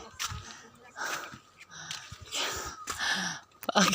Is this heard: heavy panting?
yes